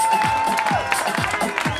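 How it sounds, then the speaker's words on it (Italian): A crowd claps and cheers for a contestant at the Miss Reggiseno 2011 pageant, a short burst of applause mixed with nearby voices. "Un bel applauso per Arianna."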